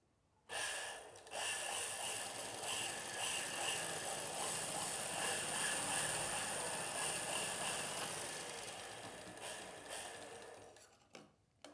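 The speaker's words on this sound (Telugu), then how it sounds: "ఇలా బుట్టని పెట్టేసుకొని మనం మిషన్కి పెట్టి కుట్టు వేసుకొని చూద్దాం" A domestic tailoring sewing machine stitching fabric with its bobbin case just refitted, a steady close mechanical whir that runs continuously for about eleven seconds with no talk.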